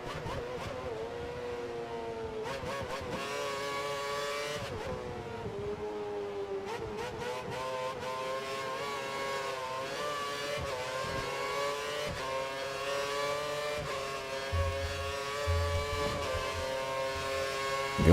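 Formula 1 race car engines from the game F1 2013 at the British GP, a steady high-pitched whine that surges and dips as the cars jostle close together, with no talk over it.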